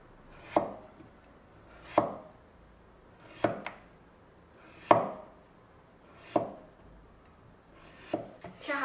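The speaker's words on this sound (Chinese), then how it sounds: "切掉皮，皮上带上一点萝卜肉" A kitchen knife slicing the peel off radish pieces on a cutting board, six distinct crisp chops at a slow, even rhythm, close and clear against a quiet background.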